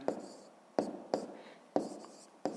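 Chalk or marker strokes on a board during a fifth-grade maths lesson, five quick sharp taps and scrapes spaced at uneven intervals, close and fairly quiet.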